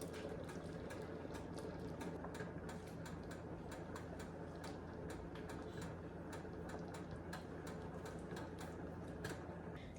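Chicken and potato soup simmering in a pot, a faint, steady bubbling with scattered soft pops and ticks continuing evenly throughout.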